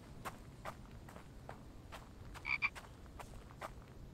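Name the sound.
frogs croaking in video game The Infected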